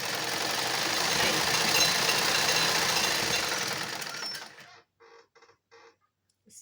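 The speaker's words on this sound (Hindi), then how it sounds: "अब हम मशीन को इस तरह से घुमाएंगे और सिलाई को बाहर निकाल देंगे" A sewing machine stitches a pocket onto ladies' palazzo pants, whirring loudly and steadily for about four seconds, then stopping and running in a few short stitching bursts. No talking.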